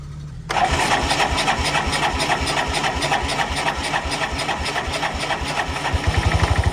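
An old vehicle engine, one of a Jeep, truck or four-wheeler, cranks and catches on a cold start at about half a second, then runs roughly and loud, with a throttle blip raising a pulsing rumble near the end.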